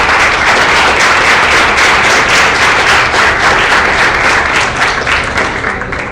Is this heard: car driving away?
no